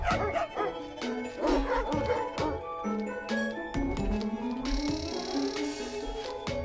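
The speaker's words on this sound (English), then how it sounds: "Let me aggro the dog." A dog in the puzzle game Bokura barks in short repeated yips and woofs over game music, fairly close and rhythmic throughout.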